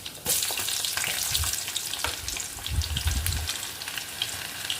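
Onions fry in hot oil in a kadai with cumin and mustard seeds for a broad bean curry, giving a loud, dense, continuous sizzle close up. Bursts of crackling and stirring scrapes come and go, with no voices.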